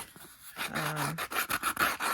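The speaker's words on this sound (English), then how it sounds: "I found my little square sanding block." Rough scraping and rasping strokes of a square sanding block, a steady back-and-forth rubbing rhythm close by, with one brief tonal squeak partway through.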